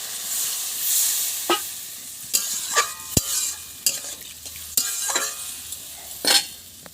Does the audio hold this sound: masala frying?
yes